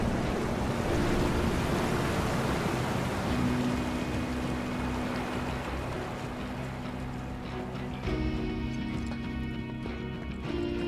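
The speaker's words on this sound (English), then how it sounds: "Drain the water out." Sewer water draining and rushing in Sector 7 of Final Fantasy 7 Remake, a loud, steady wash of flowing water with a low hum and tonal layers that change partway through.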